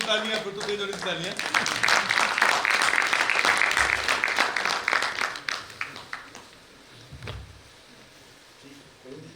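A convention crowd claps loudly and steadily for several seconds, a dense round of applause that tapers off, leaving quiet room sound with a couple of soft thumps.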